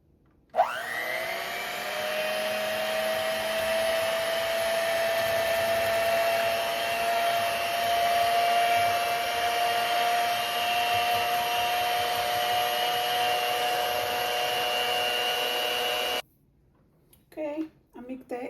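Electric hand mixer whirring steadily as it beats three eggs with vanilla sugar in a bowl, a loud continuous motor whine that stops abruptly near the end, followed by brief faint talk.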